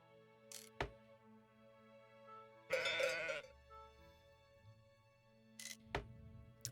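In a video game, a few short sheep bleats pop up over a quiet electronic hum, one louder burst in the middle and sharp clicks between.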